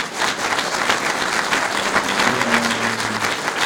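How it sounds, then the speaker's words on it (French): Audience applause at a debate, a dense sustained clapping crowd filling the room at even loudness, with a faint voice underneath near the end. "Vous m'applaudissez, j'en suis très heureux."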